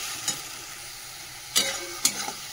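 Chili, tomato paste and spices fry in a pan under a faint, steady sizzle, broken by three quick spatula scrapes close by.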